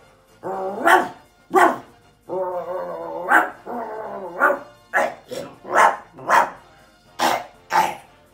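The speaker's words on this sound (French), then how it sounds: "Le chien qui aboie, il y a un truc là." A dog barks nearby in a loud, uneven series of sharp barks mixed with longer, whining yowls, about a dozen outbursts with short gaps between them.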